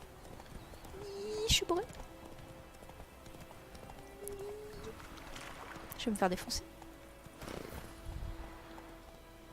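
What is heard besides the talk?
horse galloping in a video game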